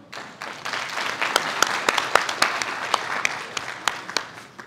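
Applause from an assembly at a university conference approving two reports by acclamation, a dense, sustained wash of many hands clapping with sharp individual claps standing out, moderately loud and steady throughout.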